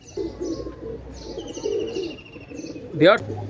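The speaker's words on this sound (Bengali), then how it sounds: "দেখেন এক জোড়া ডাবলা কবুতর" A pair of pet pigeons coo close by in low, repeated throaty bursts, mixed with a few short chirps and a louder coo near the end.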